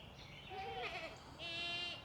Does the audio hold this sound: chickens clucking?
no